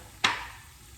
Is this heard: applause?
no